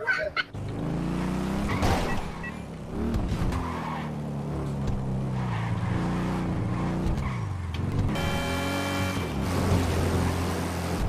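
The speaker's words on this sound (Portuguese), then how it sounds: "Porra de carro que é ali." Car driving in the GTA RP video game, with a steady engine drone whose pitch climbs and drops through gear changes, plus squealing, skidding tyres, loud and continuous with no talking.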